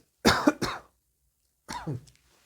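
Two short bursts of coughing separated by a pause, close and fairly quiet, the second ending in a throat-clearing rasp.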